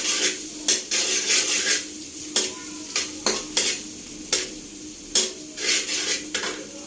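Ginger sizzles in hot oil over a raised flame for a bhindi dish, while a metal spoon repeatedly scrapes and clinks against the pan in irregular strokes, close and steady with no talking.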